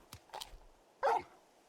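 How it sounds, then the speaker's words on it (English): A dog in Final Fantasy XVI gives a few short yips, then one louder bark, sharp and close, each brief with quiet gaps between. "You're just a big puppy, aren't you?"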